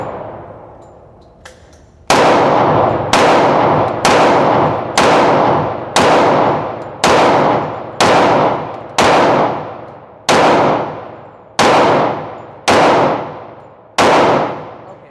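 An M&P 10mm pistol fires a steady string of about eleven loud, evenly spaced shots at roughly one-second intervals outdoors, each crack followed by a decaying ring, with rounds striking a steel target.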